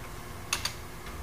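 Two quick, crisp key taps on a numeric keypad sound close together, followed by a fainter third tap, with a quiet room hum underneath.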